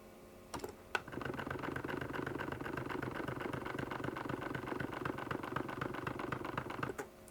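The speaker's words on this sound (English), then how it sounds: "Diesel engine, idle." Video game diesel engine idle sound effect: a steady low mechanical rumble, continuous and even, with a couple of sharp clicks near the start and end.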